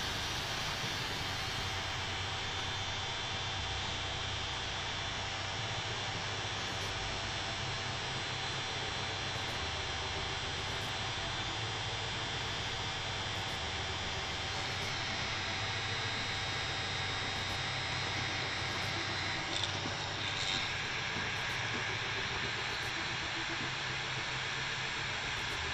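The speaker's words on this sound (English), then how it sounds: "Sorry about the noise here for this fan." An electric fan runs steadily close by, a constant broadband whooshing hum with a low drone that stays even and alone throughout.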